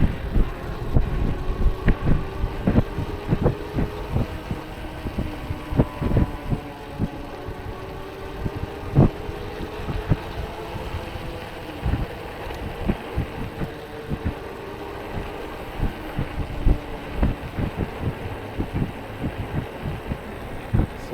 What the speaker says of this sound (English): my front tire is making some